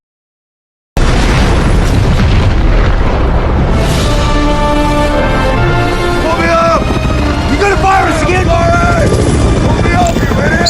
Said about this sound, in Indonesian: bom di gedung pun meledak